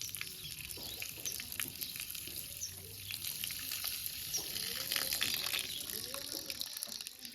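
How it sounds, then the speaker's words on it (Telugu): Taro roots being washed a second time in water, with steady swishing, splashing and trickling that swells a little midway, faint and continuous with no speech. "రెండోసారి కడుక్కుంటున్నాం ఫ్రెండ్స్ బాగా మట్టి ఉంటుంది కాబట్టి బాగా కడుక్కోవాలి"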